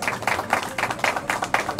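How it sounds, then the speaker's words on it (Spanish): Audience applause at a prize draw for a new car, a moderate crowd clapping in an uneven rhythm, somewhat distant and fairly quiet. "Fuerte el aplauso, felicitaciones."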